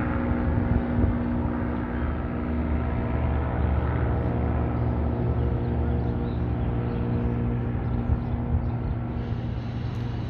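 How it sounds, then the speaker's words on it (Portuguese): Airplane taking off at Sorocaba airport, a steady loud engine roar with a constant droning hum throughout, alone with no talk. "Mais uma decolagem."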